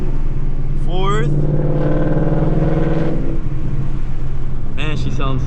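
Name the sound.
2018 Ford Mustang GT accelerating through gears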